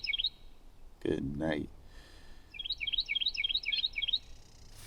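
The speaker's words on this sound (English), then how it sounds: "That bird is really loud." A loud bird near the microphone gives quick repeated high chirps in two bursts, a short one at the start and a longer run near the end, with a brief spoken phrase between them.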